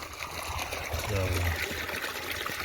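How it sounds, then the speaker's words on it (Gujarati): Water flows through an irrigation channel in a farm field sown with groundnut and onion, a soft close trickle and burble that swells briefly midway, faint and steady with no one talking. "પાણી આવે છે"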